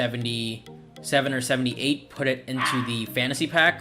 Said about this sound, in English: Sorry if you guys can hear the dogs going crazy outside